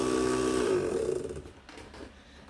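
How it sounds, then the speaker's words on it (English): A Westinghouse 3/4 size sewing machine runs steadily while winding a bobbin, a close humming motor whir that slows and fades within a couple of seconds. "move the winder, and it'll take the thread and it'll wind the bobbin."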